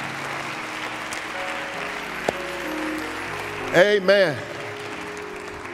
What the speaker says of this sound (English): Let's give our visitors a hand clap of praise this morning.